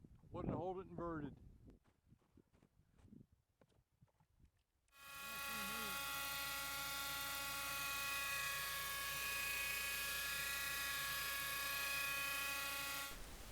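A person talks over some scattered noise, then a radio-controlled aircraft's engine takes over with a loud, steady, whining drone rich in harmonics that holds unbroken to the end.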